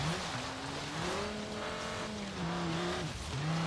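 The van's engine in the Forza Horizon 3 racing game gives a steady, modest drone. Its pitch drifts gently up and down with the throttle and it runs continuously with no talk.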